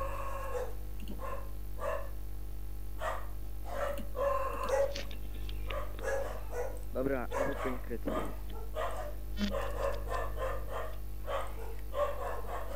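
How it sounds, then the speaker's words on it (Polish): Several dogs barking repeatedly in the distance, a steady run of rapid yapping barks under a constant low hum, with a voice speaking over them. "Słychać te psy?"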